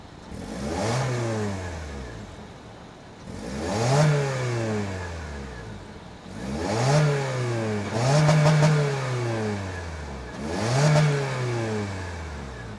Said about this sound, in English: that was the sound of the 2-liter naturally aspirated 4-cylinder